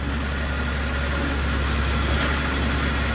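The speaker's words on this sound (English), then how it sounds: "now we're going to get some hydraulics. Here's a mast going up and down" A 2015 Moffett M5 50.3 truck-mounted forklift runs while its hydraulic mast raises and lowers, giving a steady, loud engine drone that holds unchanged from start to finish.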